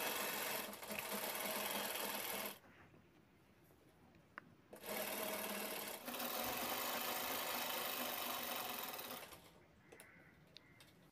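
A sewing machine stitches lining and a zip onto a pocket, running in steady close bursts of rapid mechanical whirring separated by short pauses.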